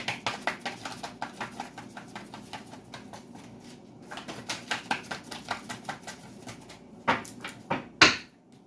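Tarot cards being shuffled during a reading, a rapid run of crisp riffling flicks that pauses, resumes, and ends in a few sharper snaps as the deck is squared, close and fairly quiet.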